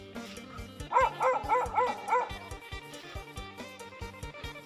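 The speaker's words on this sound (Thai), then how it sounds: "ก็มีน้องหมานะครับ บ้านข้างๆนะครับ ก็ มาเห่านะครับ เพราะว่าผมก็เป็นคนแปลกหน้าแถวนี้นะครับ" A neighbour's dog barks at a stranger near rice fields in rural Thailand on a cold morning, giving a quick run of about five sharp, fairly close barks followed by quieter yips and whimpers.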